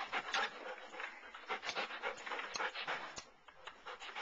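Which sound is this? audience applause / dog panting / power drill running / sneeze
dog panting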